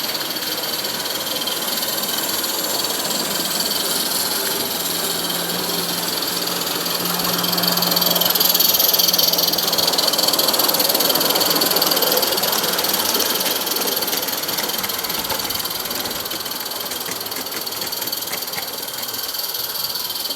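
A red Garrett Roundhouse model steam locomotive pulls a string of wagons on a garden railway. It gives a steady, busy chuffing and mechanical rattle at close range that swells slightly midway, with no talking.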